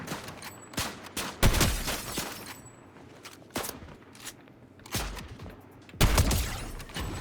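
Gunfire rings out in the video game Fortnite: several sharp, loud bursts of shots at irregular intervals, with quieter scuffling and clicks between them.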